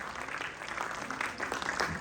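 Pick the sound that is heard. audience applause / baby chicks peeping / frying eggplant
audience applause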